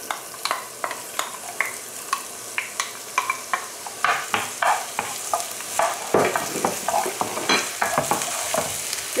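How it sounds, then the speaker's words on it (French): Finely chopped onion frying in hot olive oil, a steady loud sizzle broken by regular scraping clicks of stirring against the pan. "Après l'huile d'olive, je vais rajouter les oignons"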